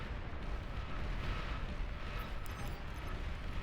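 Buildings exploding in the strategy game Beyond All Reason make a continuous, dense, low rumbling roar of overlapping blasts, fairly faint and steady throughout.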